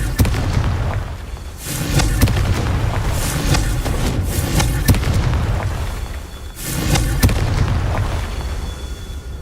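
Confringo spell explosions in Hogwarts Legacy gameplay land as several loud, booming bursts in an irregular rhythm, each with a crackling decay over a rumbling background.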